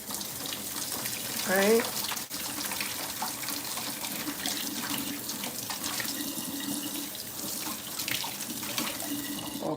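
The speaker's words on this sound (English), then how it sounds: "I'm going to wash my hand." A tap runs steadily into a sink while hands are washed under it in a home kitchen, a constant splashing hiss with brief speech and a short chirp near the start.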